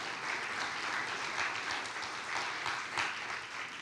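A church congregation breaks into applause during a sermon, a dense, even patter of many hands clapping, moderately loud and steady throughout with slight swells, and no speech over it.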